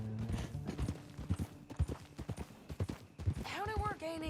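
Horse hooves clip-clopping in the Western video game Red Dead Redemption 2, a steady close rhythm of hoofbeats under characters talking, with a brief whinny-like tone near the end.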